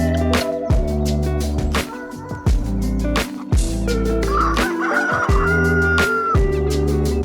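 Farm hens cluck steadily while a cockerel, head of a newly settled flock with a young chick about, crows over them in a close, busy backyard coop, with short bursts and pauses in a repeating rhythm.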